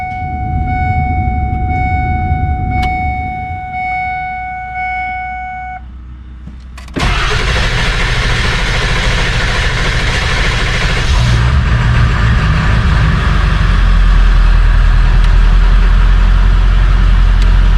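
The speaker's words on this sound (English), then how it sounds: "Bit of a long crank, but I guess that's what gets better as you work the air out of the oil system." A Ford 7.3 PowerStroke diesel, just fitted with new injector cups, grinds through a long crank over a steady electrical whine, catches loudly around seven seconds and settles into a heavy, rumbling idle close by.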